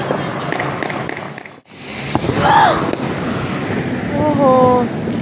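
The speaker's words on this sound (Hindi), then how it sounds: "जी फायरवर्क 12 बज गए" New Year fireworks bursting over a crowded, traffic-jammed road, with crackling pops and whistling rising shells amid street noise and voices talking.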